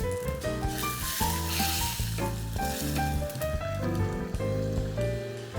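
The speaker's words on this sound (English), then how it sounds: "I'm going to add in a sprig of curry leaves, a quick stir, and this now straight goes in the stew." A sprig of curry leaves sizzling among browned onions in hot oil, a crackling hiss with quick stirring scrapes, while background music plays throughout.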